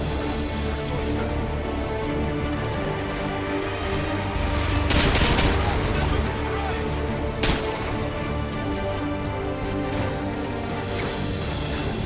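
Sustained turret gunfire in the video game Call of Duty: Modern Warfare 2 Special Ops, a dense, continuous barrage with a heavier burst of firing midway, loud and unbroken throughout.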